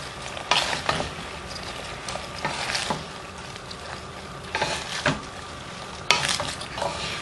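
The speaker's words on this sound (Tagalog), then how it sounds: "So, hahaluin natin ito ulit." Vegetables for chop suey, including snow peas, cabbage and bok choy, are stirred in a pan, with scraping and clattering strokes over a steady sizzle and a few louder clanks of the utensil against the pan.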